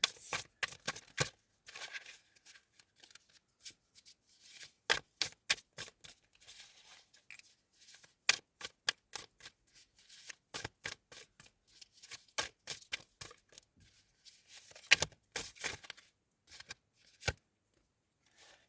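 Tarot cards are shuffled and drawn from the deck in quick, crisp riffles and flicks, close and fairly quiet, in uneven bursts with short pauses, no voices.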